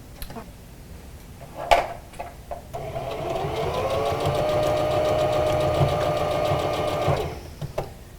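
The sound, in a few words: sewing machine stitching a fabric face mask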